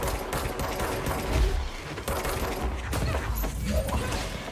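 Dense rapid gunfire rattles in the video game Control while aiming down sights, with continuous loud bursts and crashes and little pause.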